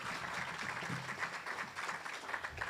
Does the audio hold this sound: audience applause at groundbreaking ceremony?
yes